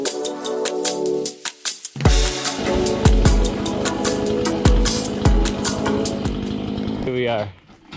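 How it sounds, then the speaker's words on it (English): An old Husqvarna chainsaw cuts firewood outdoors, its loud buzzing drone running steadily for most of the stretch with repeated sharp knocks and bursts, then cutting off near the end. "Fire up the old Husqvarna and cut some wood"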